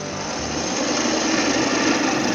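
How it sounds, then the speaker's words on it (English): A wood lathe whirs steadily while a tool scrapes against a spinning bowl, a continuous close grinding hiss without speech. "I'm just going to come back a little bit with just kind of a scraping motion"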